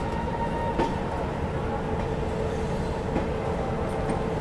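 Aboard the Vibhuti Express as it runs alongside and overtakes another train, a steady rumble of wheels and carriage noise carries on, with a couple of faint clanks along the way.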